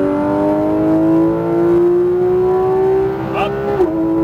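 A Porsche GT3 RS engine climbs in pitch on a race track, a loud close-up rising whine with strong harmonics before a sharp shift near the end, with a voice briefly over it.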